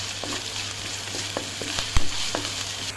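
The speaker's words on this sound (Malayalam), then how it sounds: "ഈ വേവിച്ച് വെച്ചിരിക്കുന്ന ലിവർ നമുക്ക് ഇതിലേക്ക് ചേർത്ത് നല്ലവണ്ണം ഒന്ന് ഇളക്കി നമുക്ക് ഡ്രൈ ആക്കി എടുക്കണം" Boiled liver stir-fries with curry leaves and chilies, giving a bright, close sizzle with a few light scrapes and one firm knock of the spoon against the pan.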